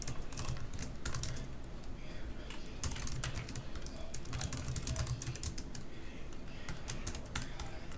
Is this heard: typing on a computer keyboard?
yes